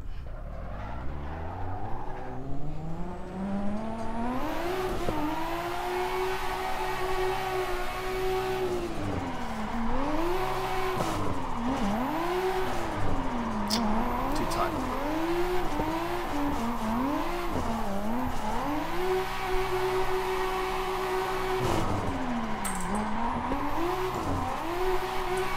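A drifting car in Assetto Corsa, its turbo boost turned up, revs hard with sustained tire squeal and rising and falling engine pitch through long slides, loud and continuous with no talking.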